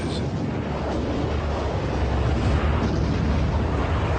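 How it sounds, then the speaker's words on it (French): Heavy naval bombardment of enemy beaches by battleships, cruisers and destroyers in the Second World War, heard as a dense, continuous roar of rumbling blasts, loud and sustained with no talk. "Cuirassés, croiseurs, destroyers, pilonnent les plages ennemies."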